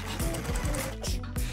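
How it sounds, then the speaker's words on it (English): Sewing machine stitching bi-stretch fabric for a doll costume craft project, running in quick repeated bursts with a steady mechanical whir and rhythmic needle thumps, close and fairly loud throughout. "Sew on the machine."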